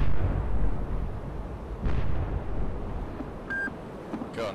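A missile launch in the naval combat game Cold Waters gives a low rumbling roar over several seconds, with a short electronic alert tone and faint bursts near the end.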